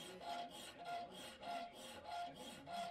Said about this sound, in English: now it's time to get out the files and really refine this to the stock